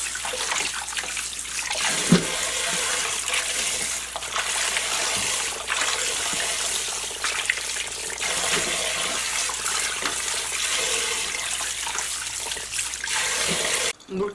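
Young radishes for kimchi being washed by hand under running tap water, a continuous splashing and trickling stream with occasional knocks, steady and close throughout.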